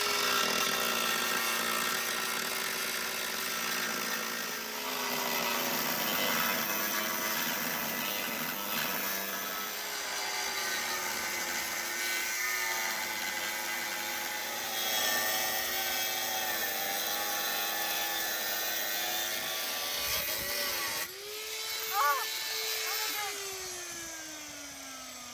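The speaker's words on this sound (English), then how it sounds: "I'll go get one of my cut-off wheels." An abrasive cut-off wheel grinds steadily through the aluminum hull of a catamaran, a continuous harsh whine that holds for about twenty seconds, dips briefly, then rises into a higher sustained tone near the end.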